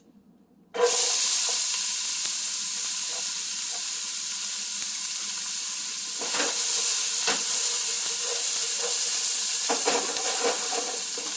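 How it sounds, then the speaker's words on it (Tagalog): Chopped celery hits hot olive oil in a pan for Thanksgiving stuffing: quiet, then a sudden loud sizzle that holds steady, with occasional utensil clinks and stirring. "Lagyan po natin ng olive oil. At lutuin po natin ang ating celery."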